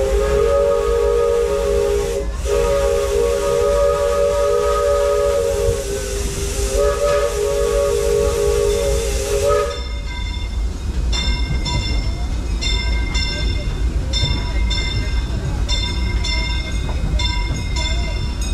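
A Disneyland Railroad steam train sounds a long, loud whistle in several blasts, then runs on with steady hissing steam and rhythmic rail clatter.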